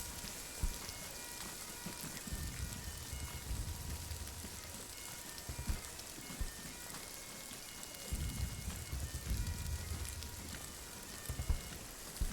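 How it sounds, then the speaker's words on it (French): Rain pours in ARMA 3 as a dense, steady hiss of drops, with low rumbling swells coming and going beneath it. "la pluie tombe dans mon casque."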